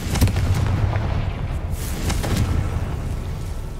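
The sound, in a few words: Confringo fire spell setting something alight, from video game Hogwarts Legacy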